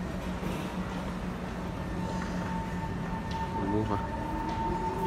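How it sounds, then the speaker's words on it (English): An SMRT C151 MRT train pulls away from a station platform, its steady rumble and motor whine rising in pitch over constant background noise, with faint voices nearby. "Alright, train is leaving."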